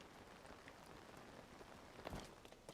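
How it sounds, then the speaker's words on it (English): Rain falls steadily in the video game Zelda: Tears of the Kingdom, a faint, even hiss of drops on surfaces with a slightly sharper patter near the end, no talk. "I hate that it's raining."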